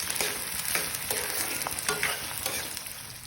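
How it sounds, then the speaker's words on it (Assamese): Onions frying in oil in a pot until golden brown for chicken biryani, a close, continuous crackling sizzle with frequent spatula scrapes and stirring clatters. "পিঁয়াজখিনি আমি গল্ডেন ব্ৰাউন হোৱালৈকে আমি ভাজি ল'ম"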